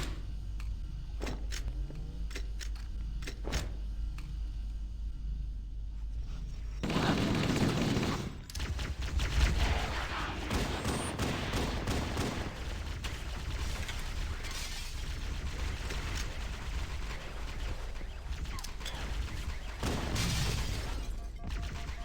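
Gunfire in Halo: Combat Evolved on Legendary difficulty: scattered sharp single shots early, then a sustained loud barrage of automatic fire and explosions that runs on with mechanical battle noise and faint voices.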